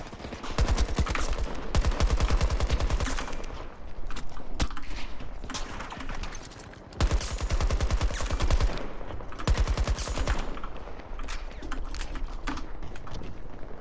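Battlefield 2042 gunfire: long, rapid automatic bursts and scattered single shots crackle almost continuously, loud and close, broken only by brief pauses between volleys.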